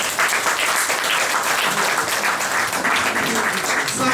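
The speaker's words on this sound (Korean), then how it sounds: "두 분 좀 박수로 좀 맞아주십시오" An audience at a history lecture claps to welcome two guests, a steady, moderately loud round of applause with a faint voice beneath it.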